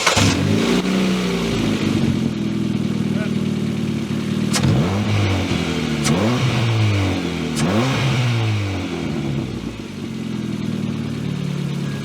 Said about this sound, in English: As you can hear, my obnoxiously loud exhaust and the crappy intake.